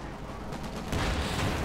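Gunfire rattles in Company of Heroes 2 as paratroopers advance, a dense continuous crackle of shots and distant battle noise that swells midway, no speech.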